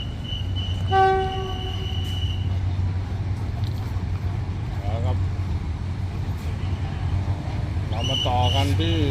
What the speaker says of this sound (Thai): เดี๋ยวเราไปดู GEK 4050นะครับ กลับเข้ามาทำขบวน 212